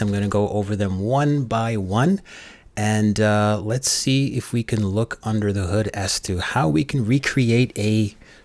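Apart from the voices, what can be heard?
No everyday noise stands out behind the speech.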